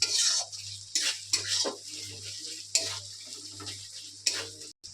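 Ginger paste stir-fried with spices in a pan, with scraping and stirring clatter in repeated bursts and a soft sizzle underneath, close and moderately loud.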